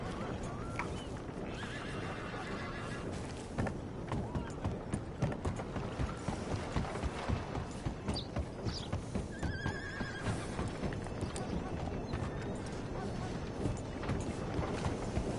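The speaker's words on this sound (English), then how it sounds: "Wow, fine horse there." Horses in the Red Dead Redemption 2 video game whinny repeatedly while hooves clip-clop in a steady rhythm, with game ambience and some speech mixed underneath.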